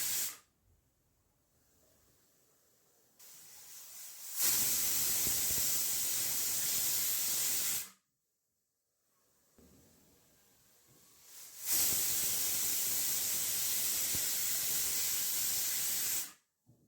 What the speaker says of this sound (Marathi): इकडे आपल्या भाज्या शिजत आहेत,